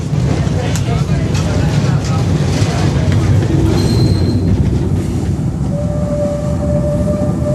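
Continuous loud rumble and rattle of a train rolling past, with a faint high-pitched squeal and tone emerging toward the end.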